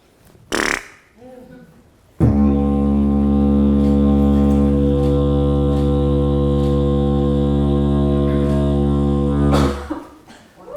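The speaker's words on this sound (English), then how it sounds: "when you start playing the didgeridoo, you start with the first sound, which is blowing raspberry" A brief breath and sound, then a long, loud, buzzing low drone from a didgeridoo played with the basic blown-raspberry lip technique, held steadily for about seven seconds before stopping.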